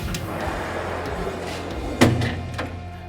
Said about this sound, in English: he's added this Trundle Drawer